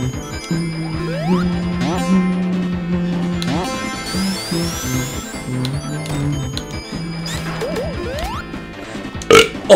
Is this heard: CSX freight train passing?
no